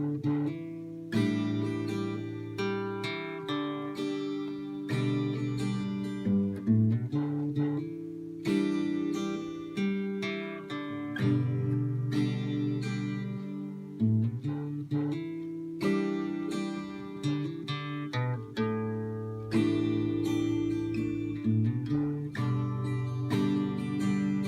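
Guitar plays the intro to a song, mixing picked single-note runs with strummed chords in a relaxed rhythm, clear and close, heard alone for about twenty-five seconds.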